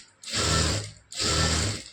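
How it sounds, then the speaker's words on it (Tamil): A sewing machine stitches the neck lining of a Poonam saree blouse in two close, steady bursts of fast whirring, with a brief pause between runs and no voices. "இப்படி வச்சு ஸ்டிச் பண்ணிடலாம் 1/4 இன்ச்சு விட்டு."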